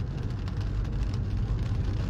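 Steady rain falls in Halvad, a continuous broadband hiss of drops on surfaces with no voices, a low rumble underneath.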